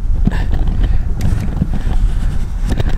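Wind at roughly 10 miles an hour gusts across an outdoor softball field, rumbling and buffeting against the microphone in uneven, fairly loud surges.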